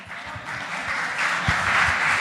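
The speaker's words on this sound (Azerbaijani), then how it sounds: "Ürəklə alqışlayaq." Sustained crowd applause at a meyxana competition night, loud and steady throughout, with a slight swell toward the end.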